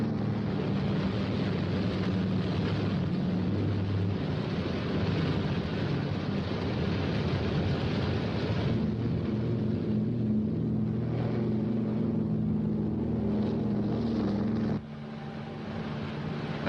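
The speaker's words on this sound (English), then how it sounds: "That helicopter in the background is ditch patrol." A helicopter flying ditch patrol during carrier flight operations off Korea gives a continuous low mechanical drone, steady and moderately distant with wind noise, alone and with no talk.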